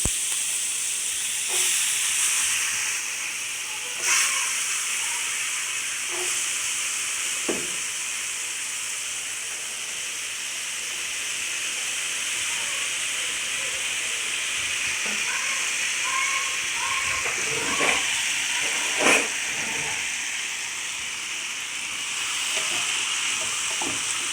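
Potatoes sautéing in a pan for sambar rice give a steady, soft sizzle and hiss close by, with scattered light clicks and stirring scrapes throughout and no talking.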